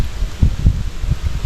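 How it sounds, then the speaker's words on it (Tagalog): Strong wind buffets the microphone outdoors in low, uneven rumbling gusts that swell and fade repeatedly, close and fairly loud, with no talking. "Oh, grabe yung hangin guys, oh."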